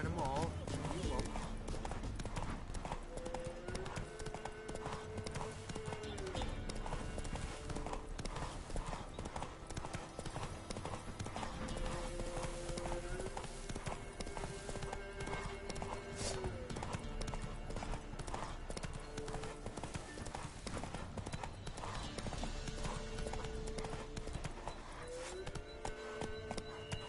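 Steady clip-clop of the horse Roach galloping in the Witcher 3 video game, hooves drumming continuously and close over layered game music and ambience, with voices speaking in places.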